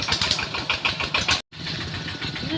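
A farm tractor engine runs steadily on a rural track, a loud, close, continuous rumble with a brief cut partway through before the engine noise resumes.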